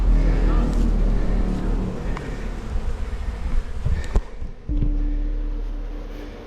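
African honeybees buzz at a hive that has taken over a hollow statue, a dense close swarm hum with brief louder passes, and a passing car can be heard faintly beneath it.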